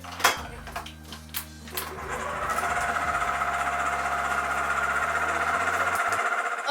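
An electric mixer blends an egg into cookie dough, starting with a few knocks against the bowl and then settling into a steady, close motor whir that runs to the end.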